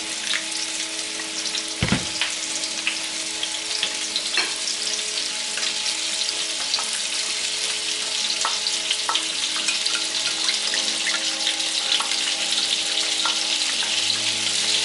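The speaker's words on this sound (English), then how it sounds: "Just a couple of minutes of saute and they should be about right." Prawns sautéing in a pan with a big lump of butter, a loud, dense, constant sizzle close by with a sharp knock near the start and light stirring through it, no talking.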